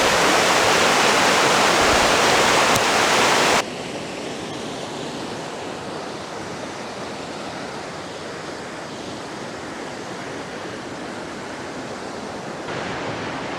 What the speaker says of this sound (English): I think it's the South Boulder Creek, and beautiful rapids, little waterfalls.